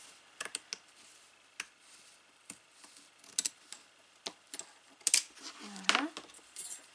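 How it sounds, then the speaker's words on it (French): Fabric being cut straight along a ruler with scissors: sparse, sharp snips and clicks come in an irregular rhythm, close and fairly quiet, with a brief scraping sweep near the end. "C'est pas facile hein, de couper du tissu droit."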